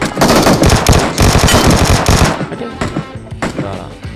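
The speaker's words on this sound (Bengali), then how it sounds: "এগুলো গুলি করতেছে" Rapid bursts of automatic gunfire in the PUBG video game, loud and close for about two seconds, then sparser scattered shots and fainter distant fire.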